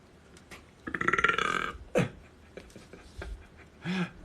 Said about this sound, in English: So burping is one of the ways I help to release energy.